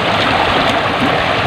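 A rain-swollen river in Infanta, Quezon surges past in a strong current, loud and close as one dense, continuous rushing roar with no voices.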